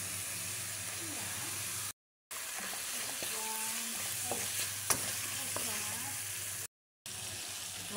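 Ground beef and tomato paste frying for a spaghetti bolognese, a steady close sizzle with occasional stirring scrapes and clicks, broken by two short silent gaps.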